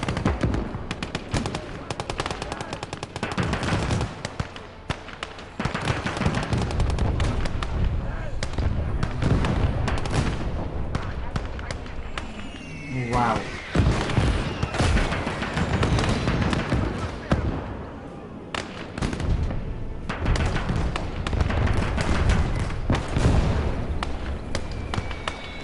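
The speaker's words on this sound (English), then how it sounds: "We'll hit that with an artillery barrage." An artillery barrage in the Eastern Front war game Call to Arms: Gates of Hell: dense, continuous rolling booms and crackling shell impacts, loud throughout, with a brief whistling sweep midway.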